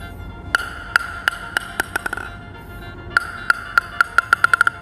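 A table tennis ball bounces on a paddle with Hurricane rubber with crisp, bright pings, two separate runs of quick taps that speed up toward the end.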